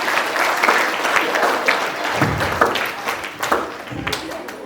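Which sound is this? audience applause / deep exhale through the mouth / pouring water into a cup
audience applause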